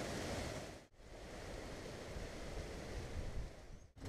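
Ocean surf rolls onto Guaratiba beach in Bahia as a steady, loud wash of breaking waves with wind noise, continuous throughout with two brief dips.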